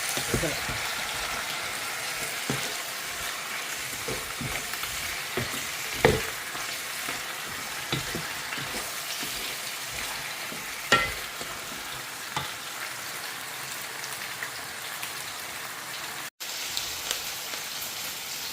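Mixed vegetables sautéing in a pan hiss with a steady, moderate sizzle, broken by repeated scrapes and clacks of a spoon stirring them, with a few louder knocks against the pan.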